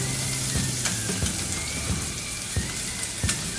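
Minced meat sautéing with sharp green peppers and garlic in a pan for tarhana soup: a loud, dense, steady sizzle with occasional soft clicks of the spoon.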